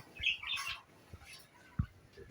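Diamond doves sit in a nest box and give a few short, faint chirps near the start, with soft bumps and rustles afterward.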